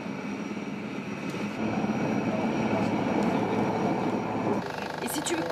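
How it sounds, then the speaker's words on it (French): Military transport helicopters carrying wounded patients at night give off a continuous heavy rotor and engine roar that swells slightly midway, with muffled voices faintly underneath. "Toute la nuit, les hélicoptères de groupement aéromobile transportent les blessés."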